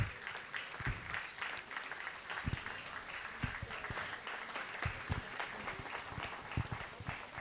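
Audience applause at a school annual function, with a large crowd clapping steadily and continuously from a moderate distance, dense and even for the whole stretch.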